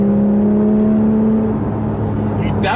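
The rear-mounted engine of a 2014 Porsche 911 GT3 drones loudly from within the cabin, a sustained tone rising then easing, with a brief voice near the end.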